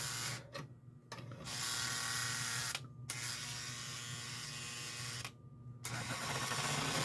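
A prewar Lionel 259E toy train locomotive motor whirs steadily on test, a buzzing mechanical drone with a low hum that cuts out briefly several times before starting up again.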